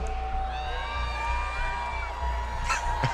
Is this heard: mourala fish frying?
no